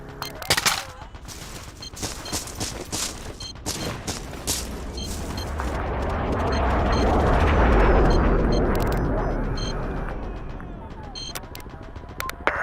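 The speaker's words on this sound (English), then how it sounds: "Artillery firing." Artillery fires in Battlefield 2: sharp, scattered gunshot cracks give way to a swelling, rolling barrage of distant booms that peaks midway and fades, then more shots and radio-style voice callouts return.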